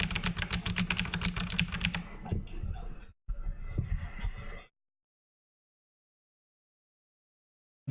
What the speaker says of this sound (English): That's a mechanical keyboard.